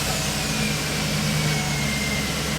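Hummer H2 with a 6.0 Vortec V8 running on new exhaust manifolds, a steady, even engine drone with no talk over it.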